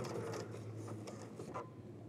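Sewing machine stitching a bound buttonhole, a quiet mechanical whir with a few soft clicking needle strokes over a low motor hum, heard close and alone.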